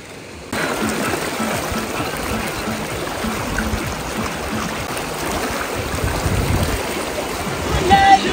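Steady broadband rush of a hillside river flowing over stones, continuous throughout and close by.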